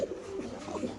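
Fancy pigeons cooing at a large pigeon farm, soft low burbling calls, a couple of short coos close by with faint background noise.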